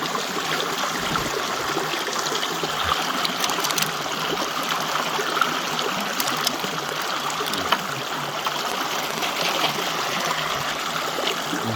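Creek water running steadily through a Keene A-51 sluice box in West Virginia, a continuous close rushing and trickling babble with small splashes, no voices.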